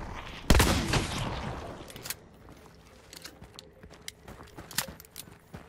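Gunfire in the video game Hunt: Showdown, one loud sharp shot close up followed by a ringing decay, then scattered fainter pops and clatter in the background.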